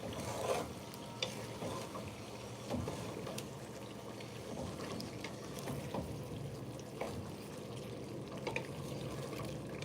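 A pot of vegetable soup with a hard seasoning cube is stirred with repeated scraping, clinking and sloshing against the pot, close and continuous over a soft bubbling background.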